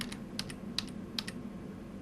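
Keyboard arrow keys tapped repeatedly while stepping through video frames in Adobe Premiere, a run of light, close clicks at an uneven pace over steady room hum.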